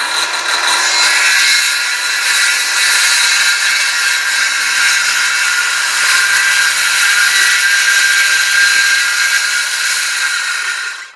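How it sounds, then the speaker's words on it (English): A circular saw rips through plywood for a DIY fishing and hunting work and storage center, one loud, steady, high-pitched cutting whine holding for about eleven seconds before cutting off at the end. "So I just use the circular saw here."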